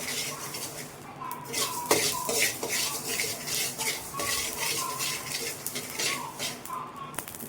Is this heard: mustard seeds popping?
yes